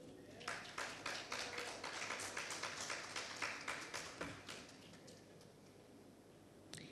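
Scattered audience applause for a company CEO at a banking conference, a moderate patter of claps lasting several seconds before fading into room tone.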